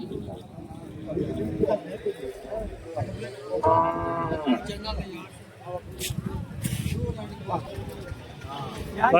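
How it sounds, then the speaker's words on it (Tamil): Native cattle at a Sunday weekly livestock market in Santhipuram, Andhra Pradesh, give a clear drawn-out moo mid-clip amid crowd chatter, people talking nearby and faint clatter. "இங்க வந்து பாத்தீங்கன்னா மாடு கண்ணோட வச்சிருக்காங்க நல்லா இருக்கு மாடு"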